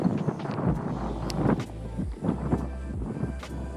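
Wind gusting across an open microphone while fishing from a kayak on the water, a steady low rumble with uneven surges and buffets throughout.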